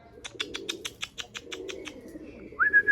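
Domestic pigeons call in a quick series of about a dozen sharp, evenly spaced chirps, followed by a rising whistled note, close and fairly quiet with no talking.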